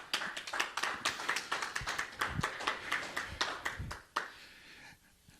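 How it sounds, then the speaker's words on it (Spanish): A church congregation claps together in praise, a dense run of steady hand claps filling the room for about four seconds before breaking off and trailing into quiet. "Dele un aplauso al Señor esta tarde."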